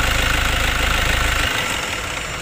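A car engine idles with a steady, close throb, then switches off about halfway through, leaving a fading whir that tails away.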